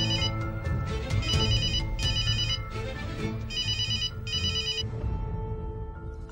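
A telephone rings during an outgoing call in a Turkish drama, repeated electronic ringtone bursts in a steady pattern over a low background hum of music.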